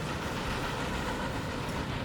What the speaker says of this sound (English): there's our fellow passenger train